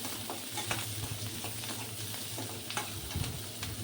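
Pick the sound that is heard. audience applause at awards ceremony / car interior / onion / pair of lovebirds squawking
onion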